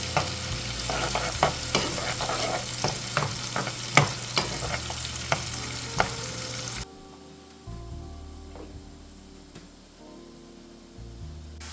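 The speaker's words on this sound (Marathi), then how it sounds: "हा कांदा आपण तेलावर परतून घेऊया." Chopped onion sizzling in hot oil in a pan while being stirred, steady frying hiss with repeated spoon scrapes and clacks, louder for the first several seconds then settling into a quieter sizzle, with no talking.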